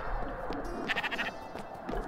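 A sheep bleats in the video game Spiritfarer, a short wavering bleat heard clearly over soft ambient game sounds, with no talking.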